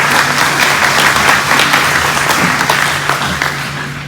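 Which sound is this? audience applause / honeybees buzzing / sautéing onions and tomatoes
audience applause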